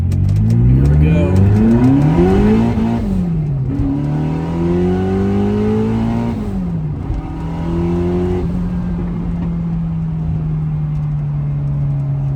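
Lotus Esprit V8 engine revving hard as the car pulls away in first gear, loud rising and falling revs climbing through several pulls, then settling into a steady drone, close by.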